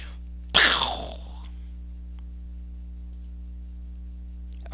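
A voice imitates an explosion with one short, breathy burst that fades within about a second, then near silence with a steady low hum.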